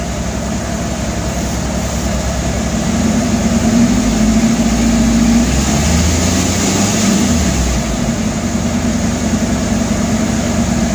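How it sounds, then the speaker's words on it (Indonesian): A Suzuki Zebra Espass engine idles steadily while warming up after sitting in a garage for a long time, a loud, close, continuous hum with a faint droning tone that wavers slightly and never stops. "Ini udah berarti mesin udah mulai hangat. Ini udah saya nyalakan sekitar 15 menitan ya"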